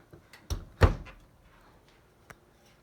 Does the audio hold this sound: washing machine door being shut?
yes